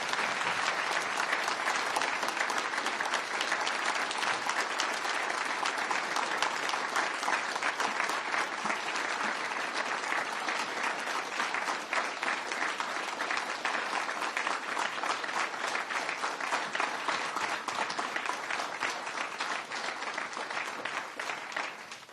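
Large audience applauding at a 2015 Stephen Harper campaign event as Sharon Rosenfeld is welcomed to the stage, loud, dense, sustained clapping without a break.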